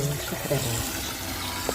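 Water runs from a sink tap with a shower-style head while coffee is being made, a steady close hiss of flowing water with a person speaking over it.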